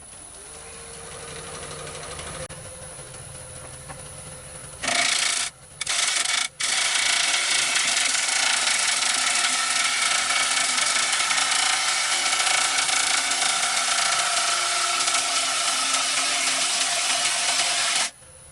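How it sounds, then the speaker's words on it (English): The side of a bowl gouge scrapes wood on a lathe, beginning with a low motor hum, then breaking into a loud, continuous harsh rasping that stops briefly twice before running steadily to the end. "I'm just sort of scraping it with the side of the bowl gouge"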